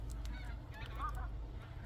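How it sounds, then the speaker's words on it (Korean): Migratory birds, geese-like, honking while flying overhead above a countryside farm plot in November; several distant calls overlap, faint against a low background rumble. "하늘에서 막 철새들이 날아다니네"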